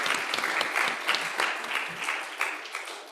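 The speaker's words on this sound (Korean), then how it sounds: "잠깐만 일어나 주시면 박수로 환영하겠습니다" Applause from a church congregation welcoming newcomers during an Easter worship service, a steady patter of many hands clapping at moderate distance, filling the room without any speech over it.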